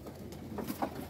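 Pigeons in a loft giving a few soft, low coos, faint and close together within about a second, with no talk.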